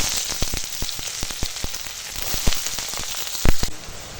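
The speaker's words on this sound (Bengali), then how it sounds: "এবার পেঁয়াজ দিয়ে দেবো" Onions fry in a pan of hot oil for a goat meat curry, a close crackling sizzle broken by sharp spatula taps and scrapes, one louder clatter near the end.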